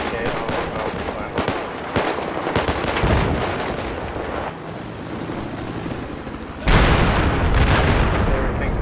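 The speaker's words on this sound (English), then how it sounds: "The hell is that huge explosion? It's a cruise missile." Battlefield 4 combat on the Flood Zone map in a large Conquest match: constant gunfire and booms rumble throughout, then a cruise missile explosion bursts in as a sudden, loud, wide blast that keeps roaring for the final seconds.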